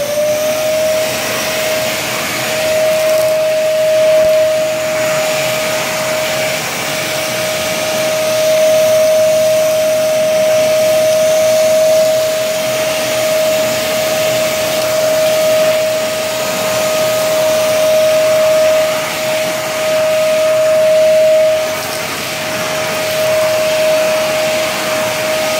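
A Parkside PNTS 1500 C4 wet and dry vacuum cleaner, fitted with a rubber attachment for picking up water, runs loud and close for the whole stretch with a steady roaring whoosh and a constant high whine.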